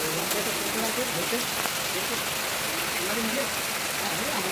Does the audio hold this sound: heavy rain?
yes